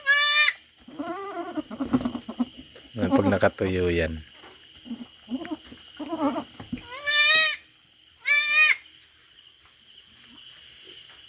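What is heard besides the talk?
goat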